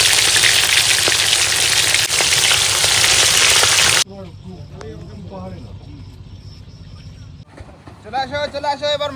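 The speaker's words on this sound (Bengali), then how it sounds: "তেল গরম হয়েছে এবার মাছগুলো ভেজে নেবো লাল করে" Fish frying in hot oil at a rainy-day outdoor picnic: a loud, steady sizzling hiss fills the first few seconds, then cuts off and gives way to close talking over quieter background noise.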